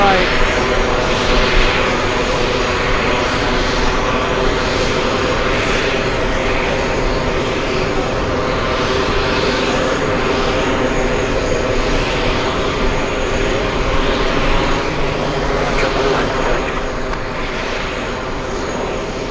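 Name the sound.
airplane landing at JFK airport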